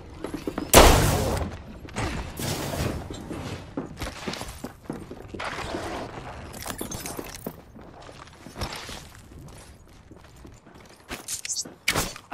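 Gunfire strikes the player in Apex Legends on console, a series of loud sharp bursts and impacts with clattering shatter-like hits, scattered unevenly through a busy stretch of action.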